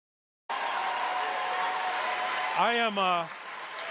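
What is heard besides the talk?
audience applauding and cheering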